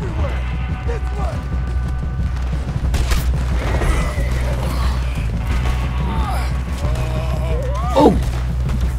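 In Red Dead Redemption 2, a horse is shot and lets out a sharp, strained whinny near the end, set against scattered gunfire, creaks and the ongoing noise of a game scene.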